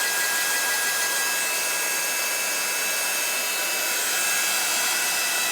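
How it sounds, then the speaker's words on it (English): Heat tool for embossing running continuously: a steady, loud, close blower whoosh with a faint high whine, unbroken throughout. "heat tool, so I'm sorry it's going to be noisy, switch it on"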